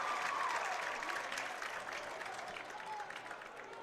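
Applause from a large crowd fills a basketball arena at the Ryan Center after a made free throw in a boys' state tournament final; steady, dense clapping, loud at first and easing slightly over a few seconds.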